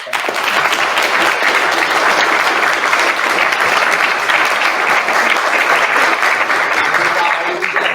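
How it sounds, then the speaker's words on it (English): An audience applauds steadily after a speech at a society event, with dense, loud, continuous clapping filling the whole stretch without a break. "Can we have one last round of applause, please?"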